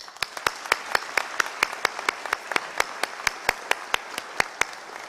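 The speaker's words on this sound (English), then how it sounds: "Let's all give a round of applause for this amazing feat." Sparse, evenly spaced individual claps ring out at a graduation commencement ceremony, a thin scattering of hands rather than a full ovation, steady and moderately loud throughout.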